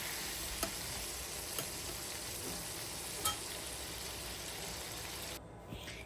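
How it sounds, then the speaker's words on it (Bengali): Potatoes frying in a pan give a steady, faint sizzle, broken by a few soft clicks of stirring, with no voices. "আলুটাও বেজে নিচ্ছি কারণ আলুটা ভেজে দিয়ে রান্না করলে তরকারিটা স্বাদ বেশি হয়"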